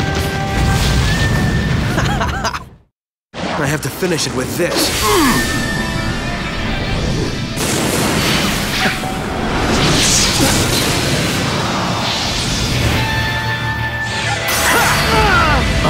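Explosive attacks in the PlayStation 2 fighting game Naruto Shippuden: Ultimate Ninja 4, loud repeated booms, crashes and whooshes with a brief silent gap early on, mixed with character voices speaking.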